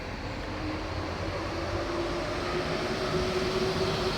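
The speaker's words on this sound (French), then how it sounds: "Il fait du bruit le métro." A metro train runs nearby in a city housing estate, a steady loud rumble with a thin rising whine that holds throughout, with no voices.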